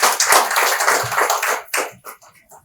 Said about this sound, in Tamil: உங்களுக்கு ஒரு பெரிய கைத்தட்டல் கொடுக்கலாமா?